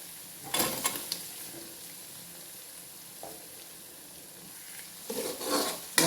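Chopped ginger and garlic sautéed in a pan with oil for mango pickle: soft sizzling throughout, with scraping stirs that swell in short bursts near the start and again toward the end.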